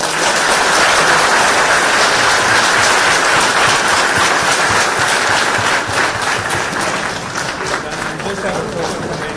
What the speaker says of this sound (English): But can we give him a round of applause?